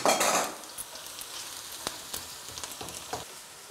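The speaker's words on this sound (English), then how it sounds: "We put our garlic and also allow it to cook." Garlic frying in a pan, a soft crackling sizzle with a brief louder burst at the start, followed by scattered stirring clicks and scrapes.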